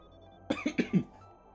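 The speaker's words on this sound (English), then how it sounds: "Coughing fit." Four quick, harsh coughs in a row, close and fairly loud, with near silence before and after.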